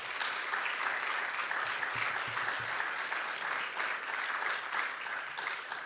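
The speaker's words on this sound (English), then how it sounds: "Why don't we give God a big hand clap of praise" A church congregation at a Monday evening Bible study claps steadily in praise, a dense, sustained wash of many hands that holds for about six seconds and then tapers slightly at the end.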